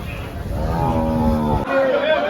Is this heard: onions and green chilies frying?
no